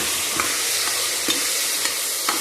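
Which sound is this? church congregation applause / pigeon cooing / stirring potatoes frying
stirring potatoes frying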